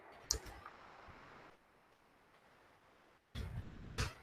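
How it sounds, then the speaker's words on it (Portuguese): Someone typing a search into Google on a computer keyboard: a few sharp key clicks near the start, then a quiet stretch, and a burst of louder clatter near the end. "Aí pode digitar o InPython no Google."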